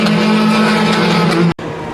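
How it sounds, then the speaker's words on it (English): Formula 4 race cars roar past on a circuit, a loud sustained engine drone with a steady pitch that cuts off abruptly near the end. "Formula 4 race just started."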